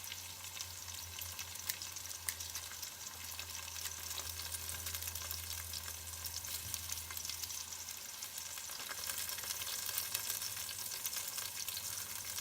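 Food fries in a pan during crawfish dinner preparation, giving a steady, quiet crackling sizzle with a low hum underneath, continuous and unbroken for the whole stretch.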